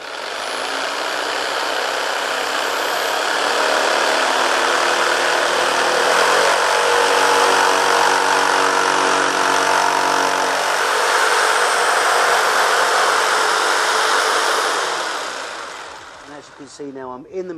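A loud, steady Black & Decker KS900EKX jigsaw whine runs continuously while cutting into material, with a slight shift in pitch midway, then winds down near the end.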